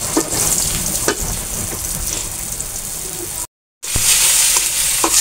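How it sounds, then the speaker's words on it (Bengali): Fish frying in a pan makes a loud, busy sizzle with spattering crackles and occasional stirring knocks, cut by a brief silent gap before the sizzling resumes. "মাছ ভাজি"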